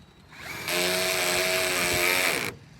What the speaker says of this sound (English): I say don't go so hard when you're drilling.